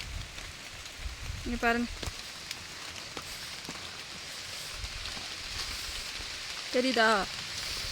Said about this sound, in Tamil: நல்ல மழை வருது.